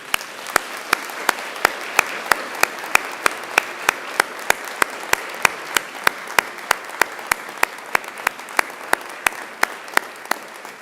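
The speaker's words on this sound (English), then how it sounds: "And now it's time to give them a mighty round of applause." Graduates at a Macquarie University ceremony turn to applaud their families and friends, a sustained wash of crowd clapping in a large hall, punctuated by sharp, evenly spaced loud claps cutting through the steady applause.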